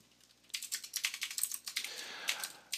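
Rapid keystrokes clatter on a computer keyboard as code is typed, a close, quiet burst of uneven taps with short pauses, no voices.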